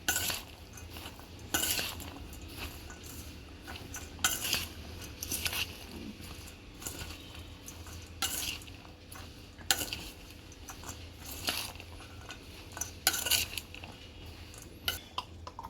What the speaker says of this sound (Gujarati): ઓરિગાનો મરી પાવડર અને મિક્સ કરી દઈશું